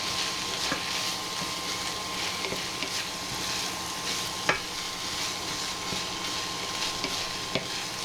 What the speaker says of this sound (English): Mix it all in again.